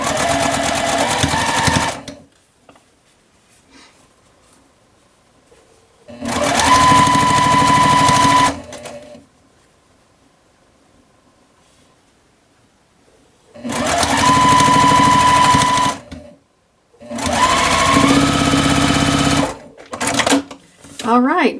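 A sewing machine stitches a quilt block in three or four bursts of steady whirring and needle rattle, each a couple of seconds long, separated by quiet pauses, close up and loud.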